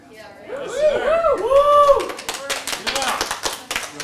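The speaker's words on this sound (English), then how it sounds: "don't clap yet" Audience clapping at a career-management class, a scatter of sharp claps breaking out amid loud excited chatter and voices close by.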